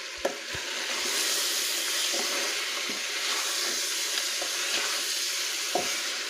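Kohlrabi and mutton fry in oil for a Kashmiri monje haakh dish, giving a loud, continuous sizzle punctuated by scattered clicks and scrapes of stirring.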